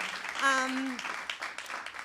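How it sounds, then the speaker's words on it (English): An audience at an evening storytelling show claps, a brief burst of scattered applause beneath a host's speaking voice. "I know we're clapping again."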